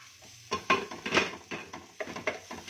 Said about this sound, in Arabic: في نفس الطاسه بقى اللي احنا كنا بنعمل فيها الفراخ هننزل ايه؟ بصلايه